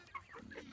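A white chicken at a market clucks briefly in a couple of soft, close clucks with no talk over them.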